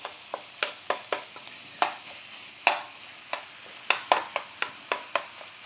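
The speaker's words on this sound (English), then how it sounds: "I hear a lot of you being worried about that metal scraping" A metal utensil scrapes a pan while stirring sausage cornbread dressing, giving sharp, close scrapes and clinks in an irregular rhythm about a dozen times.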